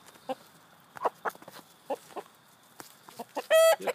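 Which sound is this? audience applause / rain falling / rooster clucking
rooster clucking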